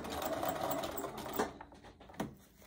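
Sewing machine stitching a mug rug, a fast close whir that stops and gives way to a couple of soft knocks as the fabric is handled.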